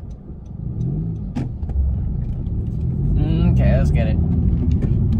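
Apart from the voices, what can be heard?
10th gen Honda Civic engine pulls and rev matches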